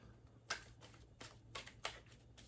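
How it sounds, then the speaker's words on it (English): A deck of tarot cards being shuffled up close, with several soft riffles and card flicks at irregular intervals over a quiet room tone. "I think this is my last shuffle"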